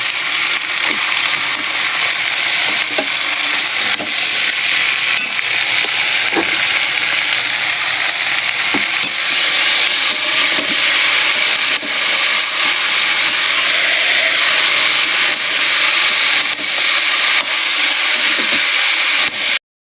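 Boiled cauliflower stalks fry in a pan with a loud, steady sizzle and hiss that holds evenly all the way through, with small crackles popping up now and then.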